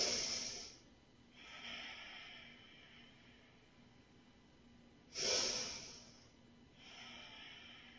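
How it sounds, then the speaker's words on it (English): Deep yoga breathing, two slow cycles of a soft, close inhale followed by a longer, gentle exhale, quiet and alone. "Inhaling more deeply and exhaling fully."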